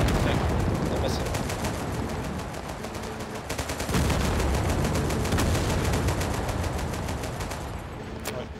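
Gunfire and RPG fire in Total Conflict Resistance, rapid crackling shots and bursts rattling steadily throughout, with a louder thump near four seconds and faint voice in the mix.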